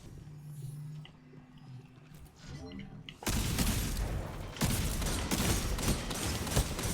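Automatic gunfire in the Destiny 2 video game bursts in loud and close after a quieter opening, dense rattling volleys running on to the end with a few sharper cracks.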